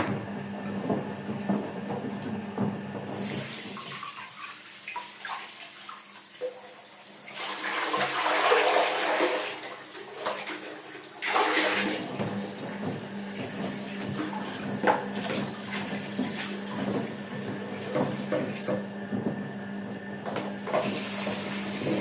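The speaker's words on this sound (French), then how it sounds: "vais me rincer la main 2 petites minutes." Hand rinsed under a running tap after working up homemade laundry detergent lather, the water rushing steadily and filling most of the stretch, with a louder surge partway through and a softer trickle at the start.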